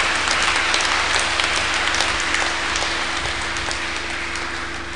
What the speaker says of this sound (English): We clap our hands in thanksgiving to God.